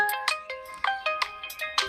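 A mobile phone sounds its locate alert to help find it, giving a rapid, repeating pattern of bright, close beeping tones that runs steadily without any talking.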